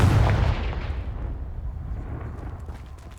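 A Confringo fire-blast spell goes off in Hogwarts Legacy, a heavy booming explosion that hits loud at once and rumbles away over three seconds.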